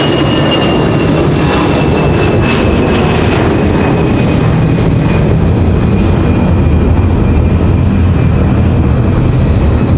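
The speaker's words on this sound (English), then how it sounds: "A330-900 flyover" An Airbus A330-900 jet passes over Raleigh-Durham International Airport with a loud, sustained engine roar and a thin high whine that hold steady across the whole stretch.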